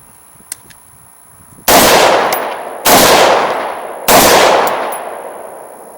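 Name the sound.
gunshots fired at a range test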